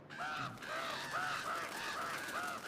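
Crows in Uncharted 2: Among Thieves give a run of rhythmic, repeated caws, about five or six calls at a steady pace, fairly clear over quiet game ambience.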